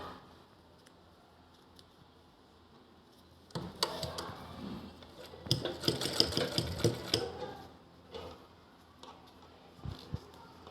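A sewing machine stitching two plastic carry bags together, quiet at first, then a burst of rapid, close whirring and clattering for several seconds before trailing off into sparse clicks.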